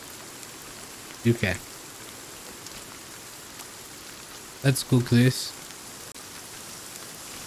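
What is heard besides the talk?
rain in video game Sons of the Forest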